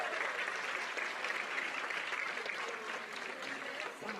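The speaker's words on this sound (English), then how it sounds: "Let's give them one more round of applause," An audience at an 8th grade recognition ceremony gives students a sustained, dense round of applause that holds steady for several seconds, with faint voices mixed in.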